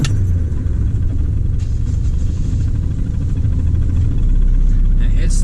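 A Triumph Spitfire engine runs steadily with a loud, continuous low rumble close by, the tone rising slightly and growing louder near the end, with no clear talk over it.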